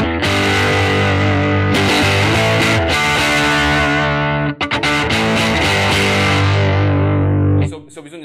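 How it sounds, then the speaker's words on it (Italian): Electric guitar played through a Mooer Hustle Drive pedal on its own, giving a medium, fairly neutral distorted tone: loud sustained chords ringing out, a brief break near the middle, then fading at the end. "Sul suono numero 3 del primo banco ho messo invece il Hustle Drive della Muir da solo."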